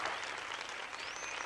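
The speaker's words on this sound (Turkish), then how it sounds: "Ve şimdi eğlence sırılsıklamda kocaman bir alkış geliyor" Steady applause from a large crowd, dense and continuous clapping throughout without pauses.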